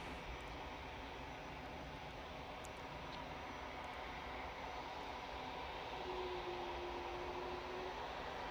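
A Ryanair jet at Manchester Airport rolls for takeoff, its engines giving a steady, broad distant roar that holds level throughout, with a faint rising tone near the end.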